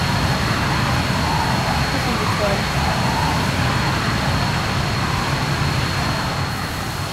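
Jet aircraft engine in the Arma 3 video game, a steady broadband roar that holds loud and unbroken throughout, with someone talking over it.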